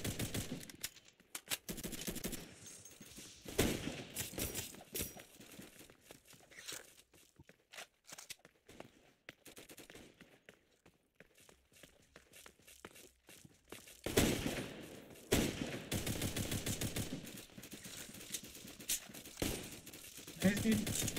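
Rapid bursts of automatic gunfire in a laggy online shooter, dense crackling volleys coming in waves with a quieter stretch midway, while a player talks over the fighting.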